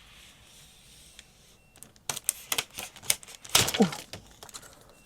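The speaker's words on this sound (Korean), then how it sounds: "왼손은 고정틀을 잡은 상태에서 비닐을 당겨 제거합니다" A thin protective plastic film is peeled off a new iPhone 17 Pro while one hand holds a fixing frame, making close, crackly crinkling and tapping bursts over a quiet room.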